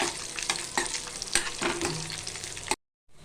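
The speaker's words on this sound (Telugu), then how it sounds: "వేసేసి ఇది కొంచెం నెయ్యిలా ఫ్రై చేద్దామండి." Black and white raisins fry in ghee for a jonnalu and pasarlu payasam, a steady close sizzle broken by spoon stirs and light clinks before cutting to silence near the end.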